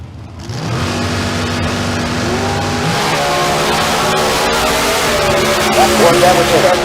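Drag race launch of a Corvette against a Pontiac G5 sponsored by K&N Filters, loud engines roaring and revving steadily with rising pitch throughout, tire noise mixed in, and a track announcer talking over the cars.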